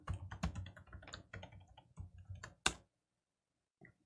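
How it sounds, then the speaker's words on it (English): Rapid clicking keystrokes on a computer keyboard as a password is entered, an irregular close patter ending in one firmer key press, then near silence with a faint final click. "I'll type in the password for the root account on server number 1."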